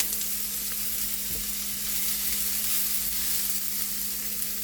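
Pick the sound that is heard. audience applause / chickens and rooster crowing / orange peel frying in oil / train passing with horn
orange peel frying in oil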